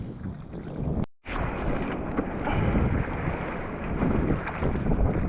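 Strong wind roars across the microphone on a surf beach at Diamond Head, a steady loud rush of gusty noise with one brief dropout near the start and no voices.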